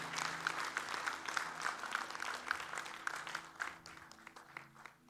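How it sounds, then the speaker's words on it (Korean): A church congregation at a Sunday afternoon service claps steadily for the sisters, a soft, even patter of many hands heard from a distance for several seconds. "자매들에게 박수 좀 보내주세요."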